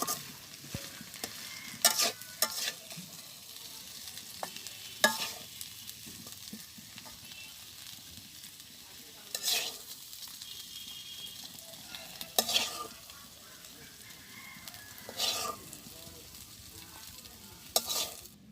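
Metal spoon scraping a pan as vegetable and fish chorchori curry is cleared out, a steady low rustle broken by sharp clanks and scrapes every few seconds, close by with no talk.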